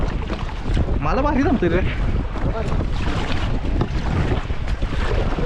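A motorboat drones along on open water, its steady engine hum mixed with heavy wind buffeting the microphone, while men chat and laugh over it during a boys' boating and camping trip.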